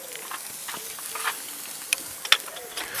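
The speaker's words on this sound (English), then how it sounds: "So I'm going to chuck my monkfish tail on. Listen to that sizzle." A monkfish tail sizzles in a hot frying pan, a soft steady hiss with a few faint clicks and pops, heard close and fairly quiet.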